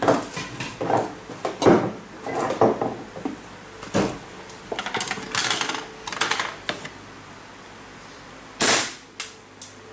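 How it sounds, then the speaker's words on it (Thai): An airsoft gun fitted with a Taiwan-made tracer unit fires at a hat outdoors in daylight, giving a scattered series of sharp, close plastic snaps and clicks at irregular intervals. "แล้วยิงใส่หมวกนี่ก็ได้นะ"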